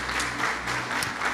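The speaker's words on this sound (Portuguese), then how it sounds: "pode aplaudir ao Senhor" A church congregation applauds during a sermon, giving brief, lively, steady clapping from many hands close by, with no voices over it.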